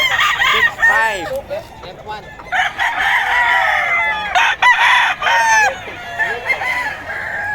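Several gamecocks crow repeatedly and close by, their calls overlapping and alternating with clucking from the fowl, loud and continuous, while a voice talks faintly in the background.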